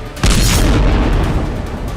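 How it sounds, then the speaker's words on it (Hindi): A missile strikes a building at night in western Gaza, unleashing a loud, deep boom that hits suddenly and rolls on as a sustained, rumbling roar. "धमाके की आवाज से पूरा इलाका थर्रा उठा।"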